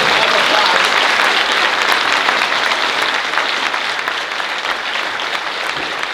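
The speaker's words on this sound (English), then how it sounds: "let's give them a round of applause" An audience at a city ward candidates forum in Tucson applauds steadily for several seconds, a dense close wash of clapping that gradually softens toward the end.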